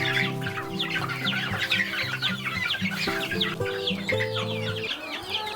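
Chickens in a coop cluck busily while eating feed, a dense close chorus of overlapping clucks and squawks with no speech.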